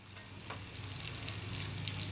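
Cut Kasturi okra from a terrace garden sautéing in a pan, a soft, steady sizzle with faint stirring, quiet and continuous.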